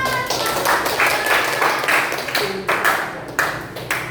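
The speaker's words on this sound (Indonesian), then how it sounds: "kita beri tepuk tangan" Classroom of seventh-grade students clapping hands together after a group presentation in a maths lesson, a dense continuous patter of claps lasting a few seconds with some background voices mixed in.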